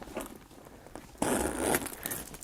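A Michael Kors Jet Set pebbled leather backpack's pocket zipper is pulled in one quick, close, bright rasping run lasting about half a second, with quieter handling rustle before and after.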